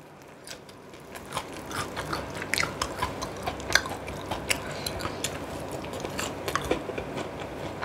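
Someone bites and chews spicy fried chicken up close, with repeated crisp crunches and wet, squishy mastication sounds in an irregular rhythm, no talking over them.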